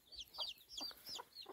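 A mother hen on a farm in Maromaku clucks softly with her chicks, several short, close clucks repeating at a steady pace over high peeping.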